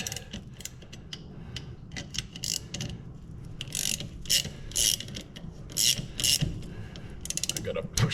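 Nuts and bolts being tightened on an upgraded rear sway bar of a Bandit Trans Am, rapid ratchet clicks in repeated bursts with a metallic mechanical rattle, close up.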